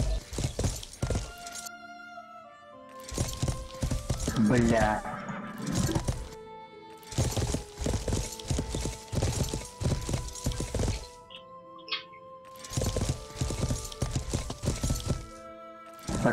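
Video game horse hooves clip-clop in rapid galloping bursts as a rider crosses territory, with occasional neighs and crashing thuds, broken by pauses and a voice talking over them.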